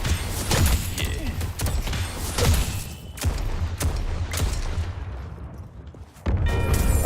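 Gunfire from Ivy's gun build in the video game Deadlock comes in repeated sharp bursts with short gaps between them, loud and close, over a busy background of game noise.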